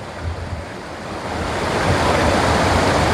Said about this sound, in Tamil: தண்ணி நல்லா விழுது,